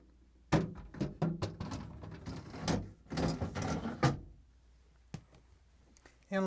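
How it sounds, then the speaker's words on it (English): A plastic drawer from a Whirlpool, KitchenAid or Maytag refrigerator slides onto its rails with a series of close scraping rattles and knocks, ending in a few sharp clicks. "Then I'm going to slide the drawer in. Place it onto the rails."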